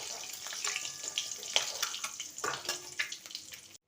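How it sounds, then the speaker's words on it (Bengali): Boiled eggs, pierced all over with a knife, frying in oil in a pan, giving a steady bright crackling sizzle with scattered pops and spits, close and continuous. "চিকেন এগটাকে ভালো করে ভেজে নিচ্ছি।"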